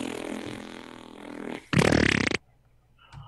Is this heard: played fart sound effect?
yes